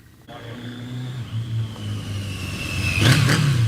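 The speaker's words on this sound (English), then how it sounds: "that is one hell of a rumble. Sounds good. That's an original factory exhaust." A Yamaha Maxim XJ650 motorcycle engine idles with a deep, rumbling factory exhaust, then revs up sharply near the end, loud and close.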